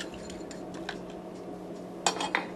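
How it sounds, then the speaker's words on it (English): A spoon stirs sweetened tea in a glass, faint soft scraping over a low hum, followed by a couple of brighter clinks of metal against glass near the end. "And I'll give it a little stir"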